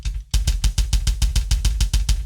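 A double kick drum played with the heel-toe double-stroke technique, delivering a quick, even run of about a dozen deep, punchy bass thumps, loud and close with no other sound.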